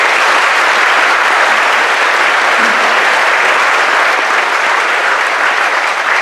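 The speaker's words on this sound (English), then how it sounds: "So let's give them a round of applause now." A large audience at a dinner event claps for volunteers, a dense, loud and sustained wash of many hands that holds steady with no talk over it.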